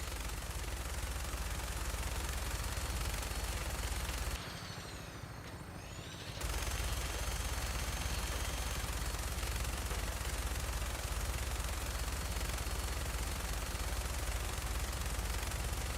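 A .50 cal machine gun fires nonstop from a vertibird in the Fallout 4 video game, a dense, loud rattle of rapid shots over engine drone, briefly dropping out for a couple of seconds before resuming.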